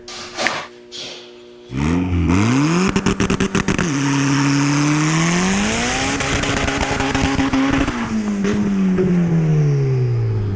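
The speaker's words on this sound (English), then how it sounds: "let's go ahead and get the truck pulled in here" A 2003 Chevy Silverado 2500 crew cab with an LB7 Duramax diesel starts and pulls in, its engine revving up and down in loud, sweeping pitch changes close by, with no talk.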